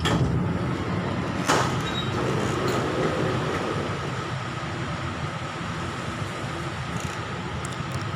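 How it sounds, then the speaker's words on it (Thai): Bangkok MRT underground metro train slowing and stopping at Bang O station, a steady loud rumble of the rail car interior with a short sharp clack partway through, continuous from start to finish with no talk. "บางอ้อ station please mind the gap between train and platform"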